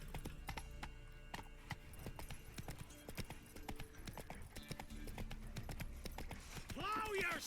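Hooves of Geralt's horse Roach clip-clopping at a quick, even pace in The Witcher 3, a close rhythmic trot that runs throughout, ending with a whinny-like sound as a voice speaks over it.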